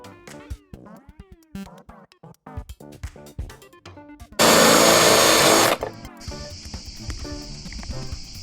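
A power drill bores through the plastic fairing of a Yamaha TDM 900 motorcycle, a loud, steady whine lasting just over a second, followed by a fainter high tone. Speech and clattering come before and after it.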